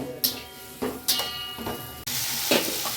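Bitter gourd curry with potatoes stirred in a little hot oil, a few loud scraping strokes of the spoon over a bright continuous sizzle, close up.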